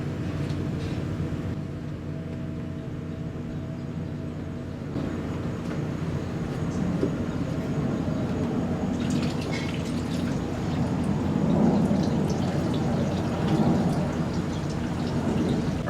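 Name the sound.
gasoline draining out of Yamaha TTR 90 pitbike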